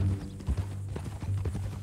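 Horse hooves clip-clop steadily at a walking pace in the Red Dead Redemption 2 video game, close and fairly loud with an even rhythm and no talk over them.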